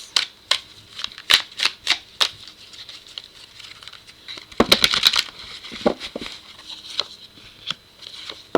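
Tarot cards being shuffled by hand, a run of crisp rhythmic riffles and slaps, close and fairly loud, followed by a denser flurry of card shuffling and a few lighter taps.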